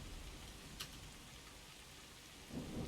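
A steady hiss of rain falls in an Assassin's Creed scene with a faint crack near the start and a low rumble of thunder swelling at the end.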